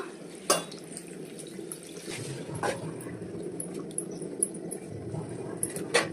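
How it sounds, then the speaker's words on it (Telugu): Water pours and splashes into a pan of prawn curry, with a few clinks of cookware and a low background hum. "వాటర్ అయితే పోస్తున్నా"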